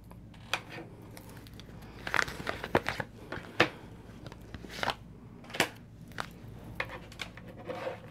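A deck of tarot-style cards is shuffled by hand, making sharp, irregular papery riffles and snaps. The bursts are close and fairly quiet, with short pauses between them.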